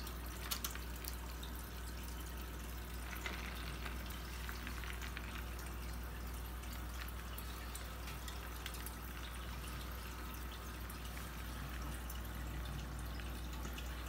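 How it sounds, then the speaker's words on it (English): Low-flow water pump in a home aquaponics bell siphon setup, water trickling and dripping steadily and faintly over a constant low hum. "My water pump is pretty low flow. It's just trickling out."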